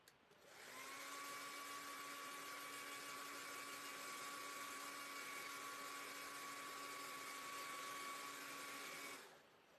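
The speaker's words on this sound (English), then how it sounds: "Let me hit these with the dryer real quick." A hair dryer blows steadily on freshly made fall pumpkin crafts, a loud, close, continuous whine with a bright tonal hum that starts abruptly, holds for about nine seconds, then cuts off.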